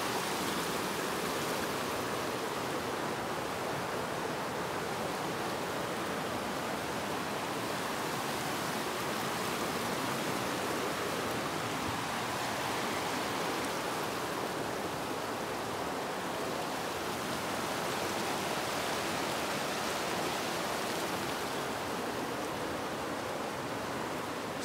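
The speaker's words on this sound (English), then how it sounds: "This is Dunbar Creek." Dunbar Creek flows along a wooded game trail, making a steady broadband rush of water that holds an even level throughout with no voices.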